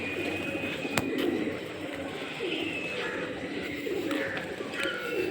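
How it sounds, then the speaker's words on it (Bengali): Pigeons coo in soft, repeated throaty phrases nearby in a parking area, over a low background murmur, with a few sharp clicks and higher chirps. "এখানে অনেক পায়রা এখানেও অনেক পায়রা"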